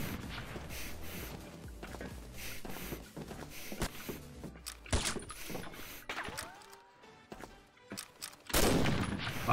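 Rapid bursts of gunfire in the online shooter Combat Arms, sharp repeated shots and short volleys with a loud final burst, heard without speech.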